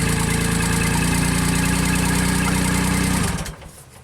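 The small engine of a JLG scissor lift that cranks slowly and stalls runs with a loud, steady rhythmic chug, then cuts out abruptly near the end.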